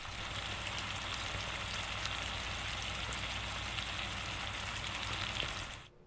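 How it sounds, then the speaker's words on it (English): Chopped bacon pieces simmering in a pan over medium-low heat make a steady, soft, even sizzle that continues unchanged until it cuts off at the very end. "chop up the bacon into little pieces, and set it in the pan to simmer for a little while"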